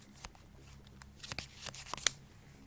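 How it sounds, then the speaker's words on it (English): A deck of Magic cards is shuffled at a table during a game: soft riffling and crisp flicks of card stock, faint and close, with a sharp snap near the end. "This is the shuffling sound."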